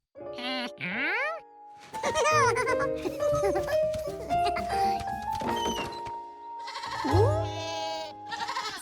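Baby goats bleat repeatedly in a cartoon farm scene, loud high wavering cries over a light musical background, with a character speaking in between.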